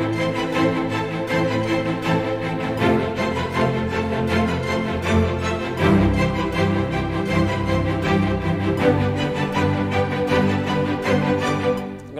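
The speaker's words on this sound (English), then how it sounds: "We've got the staccato strings that will sound like this." Orchestral staccato strings from virtual instruments play a dense, rhythmic passage of short, detached notes over a full sustained backing, steady and loud throughout with no talking.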